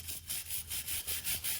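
A brush scrubs degreaser into the ridges of a motorcycle engine with quick, close back-and-forth strokes, about seven brisk rasps in a steady rhythm.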